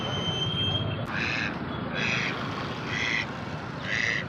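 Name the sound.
ducks quacking at a duck market in Assam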